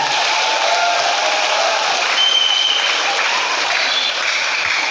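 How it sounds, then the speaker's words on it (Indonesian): A church congregation at a first Mass claps in dense, sustained applause, a loud continuous roar of many hands with some crowd noise mixed in, steady from start to finish. "Tepuk tangan untuk SMA Karya."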